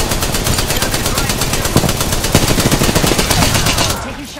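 Rapid automatic gunfire rattles loud and close in Apex Legends, a nearly continuous stream of shots with brief breaks before it stops near the end.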